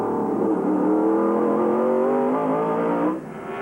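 Racing truck engines scream through a 1996 Lund Look 225 race, a loud rising whine of several close-packed trucks sweeping by in a corner, then cutting off abruptly near the end.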